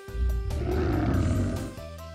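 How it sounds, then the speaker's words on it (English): A tiger gives a single deep, rumbling roar that lasts about two seconds. It sounds loud and close, over a few steady background tones. "My brother sees a tiger in the grass."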